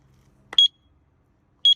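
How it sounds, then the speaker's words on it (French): A motorcycle disc lock's deterrent alarm gives two short, sharp high-pitched beeps about a second apart after a brief rattle of the wheel, loud and close against near silence. "vous avez une première alarme de dissuasion"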